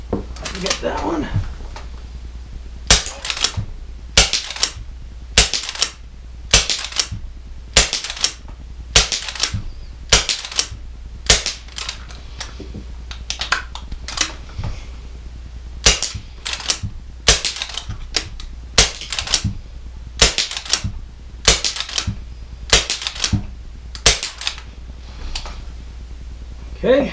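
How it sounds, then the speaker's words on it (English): Rapid sharp shots from an FX Wildcat air rifle during a timed speed silo drill, about twenty crisp cracks in an irregular quick rhythm, close and loud over a steady low hum. "Shooter's ready, begin firing"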